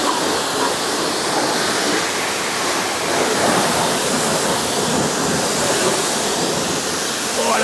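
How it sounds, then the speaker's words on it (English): Pressure washer spraying a car wheel, a loud continuous broadband hiss of water jet hitting the rim, steady throughout with no pauses and no talk. "that's just a straight up bloody pressure wash"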